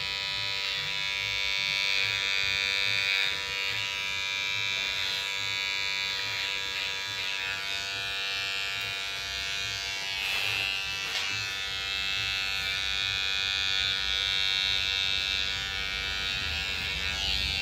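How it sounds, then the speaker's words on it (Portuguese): Electric hair clipper buzzing steadily and loud throughout the finishing pass of a shaded fade haircut, a continuous close-up motor drone with slight shifts as the blades move over the head. "Primeiro vou finalizar com a maquininha."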